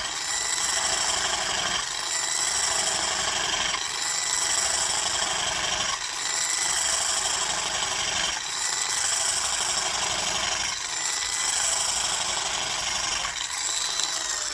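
A hand scraper works across a cast iron block in an initial pass. Steady, bright rasping strokes repeat roughly every two seconds, close and continuous, with no talk.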